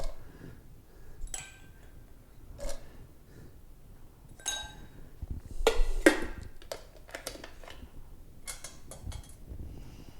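Ice cubes clink against a whiskey glass holding Wild Turkey Rare Breed bourbon, with a few sharp separate chinks and rattles scattered over a quiet indoor background.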